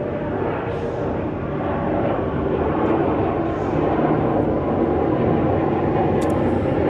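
Steady, loud airplane roar passes overhead, a dense broadband rumble holding throughout with a slight swell toward the middle and no voices.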